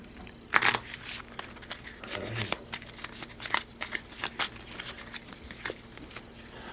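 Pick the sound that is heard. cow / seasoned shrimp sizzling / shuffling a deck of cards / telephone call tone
shuffling a deck of cards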